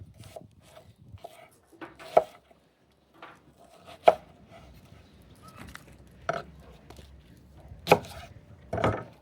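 A knife chops through food on a board, a few sharp, separate cuts spread out over the clip between quieter stretches, close by, while preparing a campfire pulled pork meal outdoors.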